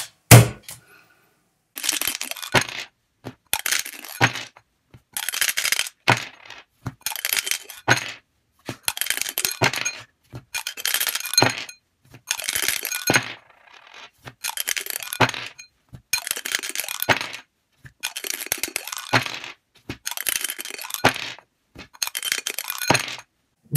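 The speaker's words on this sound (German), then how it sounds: "Gut, dann würfeln Sie mal." Dice are rolled again and again onto a hard surface, each throw a sharp burst of clattering rattles followed by a short pause, about a dozen rolls in a regular rhythm with no talking.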